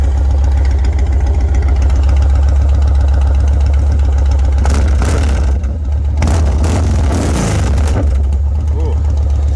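A Yamaha Stratoliner motorcycle idles through a stainless exhaust, a loud, close, steady low throb with a brief rise in revs midway before settling back.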